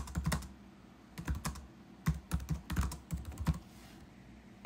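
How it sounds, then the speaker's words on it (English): Quiet, close clicking of a computer keyboard during editing in a command-line text editor, with irregular bursts of keystrokes and short pauses over a faint background hum. "To make edits, you can use the backspace key and just type as you normally would"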